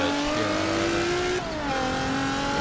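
Race car engines roar steadily in the Forza video game, one engine holding a high whining pitch before shifting down and climbing again, loud and continuous with no talk.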